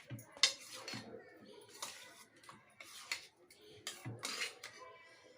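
Stirring of a tangy leafy greens curry made with chakvat, ambat chuka and dill, a spoon scraping and clinking against the pot in soft, irregular knocks, quiet and close.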